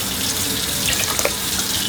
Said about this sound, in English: I'm just gonna add some water until I cover the rice completely